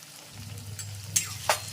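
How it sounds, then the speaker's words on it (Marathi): Spices shallow frying in oil in a pan for soya chunks curry, a soft steady sizzle with two sharp spoon clinks against the pan. "आणि हे सगळे मसाले आता पुन्हा छान असे शॅलो फ्राय करून घेते"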